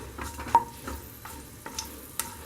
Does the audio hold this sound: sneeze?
no